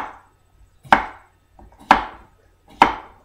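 A sharp knife slicing a peeled cucumber on a cutting board, three crisp, evenly spaced chops close up against near silence.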